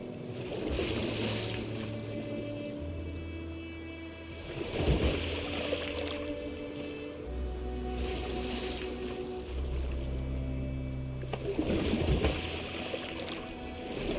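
Rowing a boat on open water in Detroit: Become Human, a few soft splashing oar strokes spaced seconds apart over steady water and wind ambience with a low musical drone.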